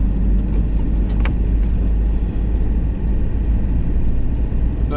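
A long-haul truck creeping slowly along an icy road near Tambov on the route to Saratov, its engine making a steady loud low rumble that carries on without a break.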